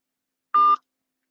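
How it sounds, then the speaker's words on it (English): A single short DTMF keypad tone sounds as a phone number is dialed. The beep is sharp and lasts about a quarter second, with silence before and after. "so I'm calling you back."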